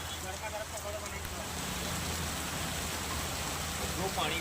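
Heavy rain pours steadily in the Dabhoi area of Vadodara, a dense, even hiss of falling water filling the scene without letup.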